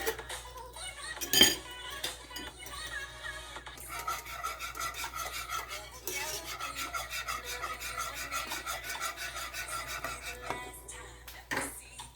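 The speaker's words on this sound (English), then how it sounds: "you have to keep on stirring it because you don't want it to get lumpy" Oat and peanut porridge stirred in a pot, a steady rhythmic scraping and rasping of a utensil against the pot bottom with occasional metallic clinks, close and continuous, no voices.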